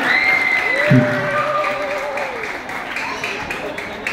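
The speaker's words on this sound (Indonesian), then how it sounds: "Berikan tepuk tangan untuk audiens yang sudah memberikan pertanyaan" An audience applauds at a 2023 school student-council (OSIS) candidate debate at MTs Nurul Ulum Jembayat. The clapping is steady and moderately loud for about four seconds, with a voice speaking over it.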